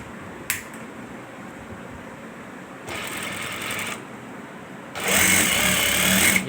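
Stitching a ladies' belt shalwar, a sewing machine runs in two short bursts, a brief one followed by a slightly longer, louder one, close by with quiet pauses around them.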